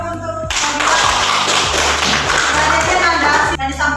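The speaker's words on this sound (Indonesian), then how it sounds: "tepuk tangan dulu untuk" A small group claps after a classroom presentation on the human skeletal system, a dense burst of hand claps over a steady background tone that stops abruptly.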